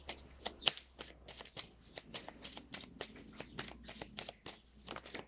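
Lenormand cards are shuffled close up in a quiet room, producing a rapid series of crisp riffling slaps and flicks, soft and irregular in rhythm.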